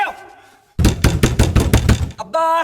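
A closed bathroom door is pounded in a Hindi film scene: a rapid run of about six loud, heavy knocks, close and insistent, with brief tonal sound before and after.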